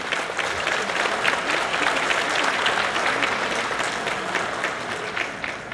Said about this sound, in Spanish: diéramos un fuerte aplauso a esta iniciativa